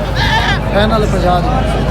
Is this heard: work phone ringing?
no